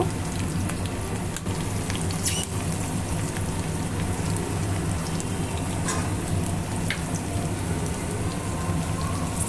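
Small mola fish frying in oil, giving a steady, dense crackling sizzle that fills the whole stretch at an even level with no one talking.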